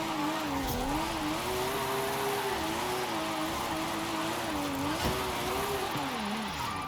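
A 90s car's engine in Forza Horizon 5 whines and wavers in pitch as it drifts, with a faint tire squeal underneath, steady and moderately loud throughout.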